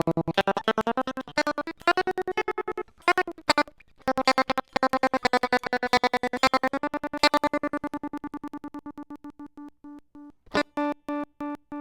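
Electric guitar played through a CircuitPython-powered multi-effects pedal set to a choppy square-wave effect, giving a rapid stuttering pulse over sustained notes that thins into slower gated chugs, then one last burst.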